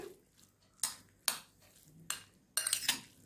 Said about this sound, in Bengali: সব কিছু ভালো করে মিশিয়ে নিচ্ছি